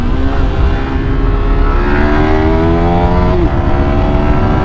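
A stock Yamaha R15 sport motorcycle engine howls at high revs during a top speed run, a loud, close, sustained whine with rising pitch and a brief dip as a gear changes.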